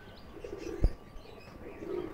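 Pigeons in a home loft cooing low and soft, with a sharp thump or flap in the middle and the coo picking up again afterward.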